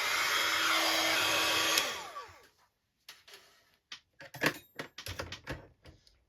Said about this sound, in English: I'm going to take my heat tool and see if I can hurry up the process